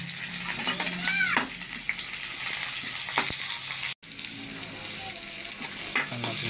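Sliced onions sizzle in hot oil in a pan, a steady crackling hiss with a few sharper spatters and scrapes, close and fairly loud.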